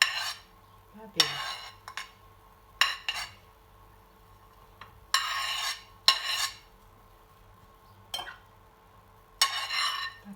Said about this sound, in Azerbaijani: doğradığım biberlərin hamısını birdən tökəcəm bura inşallah